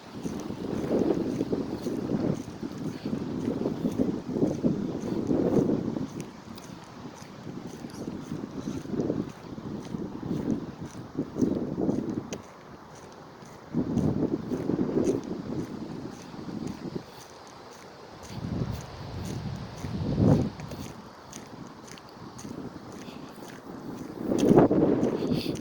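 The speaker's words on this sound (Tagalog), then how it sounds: "Kaninang madaling araw pa, malakas ang hangin." Strong early-morning wind gusting outdoors during a walk, rising and falling in loud buffeting bursts across the microphone, with no talk.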